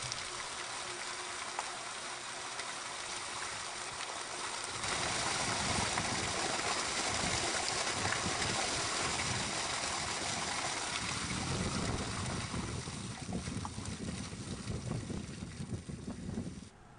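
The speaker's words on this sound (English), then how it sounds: "Let the water run until it is clear" Water gushes steadily from an opened fire flow hydrant being flushed before a 2.5-inch nozzle and flow recorder are attached, a continuous broadband rush that swells louder about a third of the way in and holds alone without talk.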